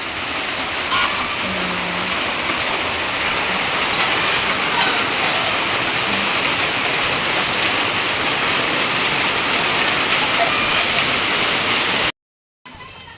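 Heavy rain pours down steadily and loudly on a rural farm near a piggery, a dense continuous hiss of water on surfaces with no break.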